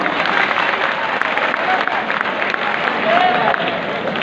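Students and audience at a college Allama Iqbal Day quiz competition clap steadily in a loud, continuous burst of applause filling the hall.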